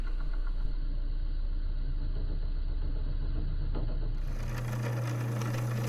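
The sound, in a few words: lathe turning an acrylic pen blank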